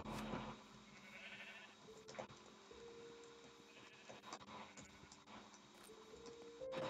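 Sheep bleating in Minecraft, short faint bleats scattered among quiet game ambience and soft tones, with no talk.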